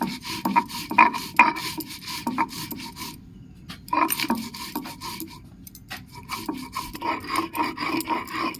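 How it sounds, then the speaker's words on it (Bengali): Poppy seeds and green chillies ground by hand on a grinding stone, a close rasping, rubbing scrape in repeated strokes, pausing briefly midway before the rhythmic grinding resumes. "পোস্ত আর কাঁচা লঙ্কাটা আমি বেটে নিচ্ছি।"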